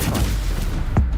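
A Stupefy spell cast in the video game Hogwarts Legacy gives one short, sharp burst near the end, over a dense, rumbling backdrop of combat noise.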